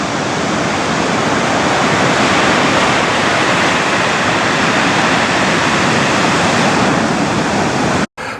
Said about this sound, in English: Here you actually hear the pebbles and rocks being rolled by the sea.